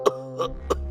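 A man coughs hard and loudly at night while in bed, three sharp harsh bursts spaced evenly about a third of a second apart, close and clear against a low steady hum.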